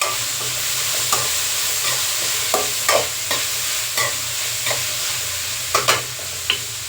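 Vegetable fried rice with pepper powder stirred in a pan: a steady frying sizzle with repeated spatula scrapes and taps at an irregular pace, close and fairly loud, with no voices.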